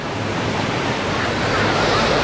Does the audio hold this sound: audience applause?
no